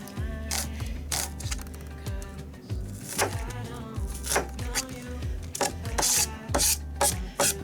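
Small onion cut up with a knife on a board, a steady run of close chopping knocks and soft scraping strokes in uneven bursts, no talk over them.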